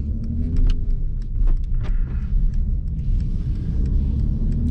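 Mercedes E53 convertible (2021) pulls away and drives at night, a low steady engine rumble with some clicks and rattles over it, close and fairly loud.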